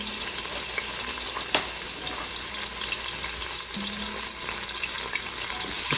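Soup ingredients are stirred in a Ninja Foodi pot over a steady, close frying sizzle, with a couple of brief spoon knocks against the pot and no voices.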